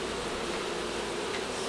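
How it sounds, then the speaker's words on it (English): A dense swarm of bees buzzing steadily inside a neighbor's wall during a hive removal, a continuous close, even drone with no talk. "there's still a lot of bees in here"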